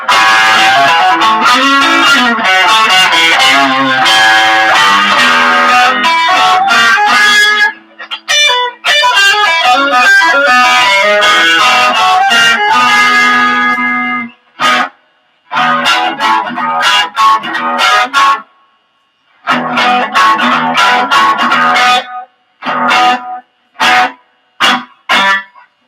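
Distorted electric guitar on a 1980s Peavey Falcon, played through a Tube Screamer TS7 pedal with added reverb: loud sustained chords and riffs with abrupt stops and short choppy bursts toward the end, no talking.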